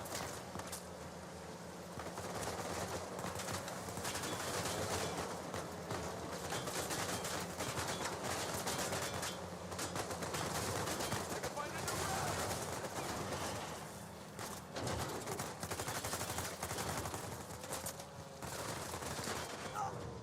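Sustained gunfire and battle noise in Uncharted 4 on Crushing difficulty, dense overlapping shots and impacts rolling on continuously at moderate loudness with brief lulls throughout.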